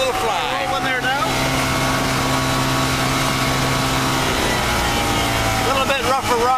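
A Kitfox amphibian floatplane engine warming up, a loud, constant close droning hum running throughout.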